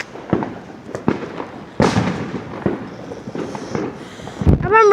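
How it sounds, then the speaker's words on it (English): Fireworks burst in a string of sharp pops and thuds of varying loudness, some close and some farther off, with one heavier bang near the middle and faint whistling crackle toward the end. "I thought that was a firework"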